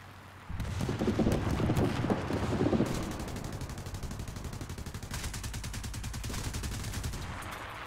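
Tank gunfire in the War Thunder video game, a Sherman II fighting, bursts in after a pause as a loud, sustained rattle of rapid shots, dense at first then settling into a steady automatic rhythm.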